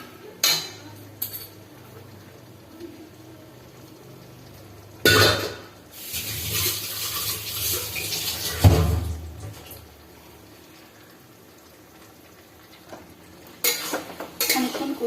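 Banana flower (mocha) dal being stirred and fried in a pan, with scraping spoon strokes and a swelling sizzle in the middle, plus a few sharp utensil knocks near the start and end.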